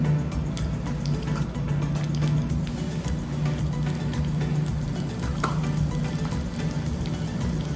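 Mustard seeds, cumin and asafoetida sizzle in hot oil for a semolina (rava) khichdi tempering, a steady close-up crackling hiss that runs unbroken throughout.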